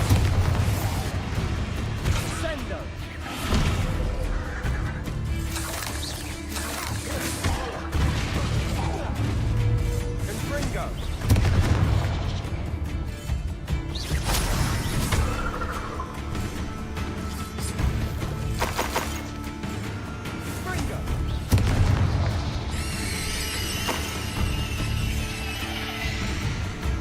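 Bombarda and Descendo spells in Hogwarts Legacy blasting through a room during combat, a dense rumble of repeated booms, crashes and smashes over game music and effects, heard continuously without pause.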